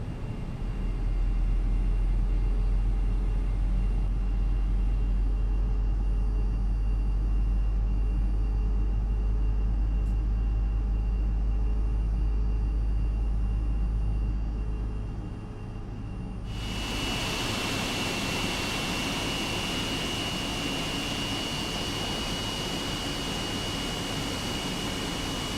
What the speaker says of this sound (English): And we'll go ahead and start engine 1.